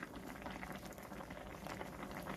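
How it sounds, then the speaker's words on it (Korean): Liquid bubbles and splashes steadily in a pot of braised pomfret stew as water is added. The sound is close and continuous, with no talk. "물 200ml를 한 컵을 더 넣겠습니다."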